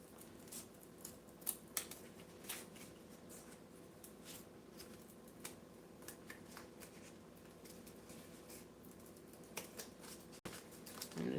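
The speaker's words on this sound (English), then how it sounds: "I'm just taking my scissors and rounding these corners off a little bit" Repeated crisp snips of scissors rounding off the corners of cardboard, arriving in short irregular bursts over a low steady background hum.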